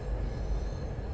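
Class 390 Pendolino train in a simulator, running uphill through the Shap section of the West Coast Main Line, with a steady low rumble of moving rail wagons and faint wheel squeal throughout.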